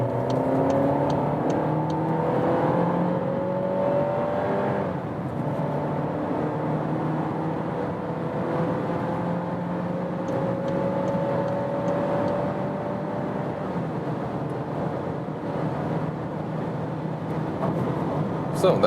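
A Volkswagen Golf 8 with a 1.5 TSI 150-horsepower engine accelerates steadily from about 40 km/h, its engine note climbing and sweeping up through the gears beneath constant road and wind noise, heard from inside the cabin throughout.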